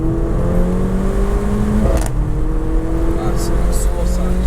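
Mercedes A45 AMG engine pulling hard on the road, a loud steady drone with rising engine tones heard from inside the cabin, with a few brief clicks.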